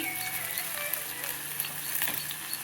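Bitter gourd slices frying crisp in a little oil, a steady close hiss and crackle that holds at an even level throughout with no talk.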